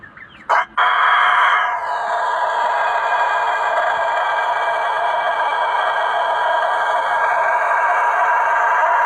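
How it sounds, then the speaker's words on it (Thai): A rooster lets out one very long, loud crow that holds steady for several seconds after a short opening burst, close and alone with no talk. "แคปชั่นเจ้าไก่นักขันขันยาวจนเกือบหมดลม"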